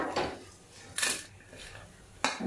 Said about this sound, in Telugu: ఇలా వేయించుకున్న తర్వాత ఒక ప్లేట్లోకి తీసేస్తున్నామండి